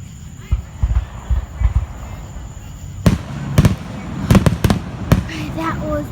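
Fourth of July fireworks bursting in a series of sharp, loud booms and crackles, several clustered close together in the second half, over outdoor ambience and some background voices.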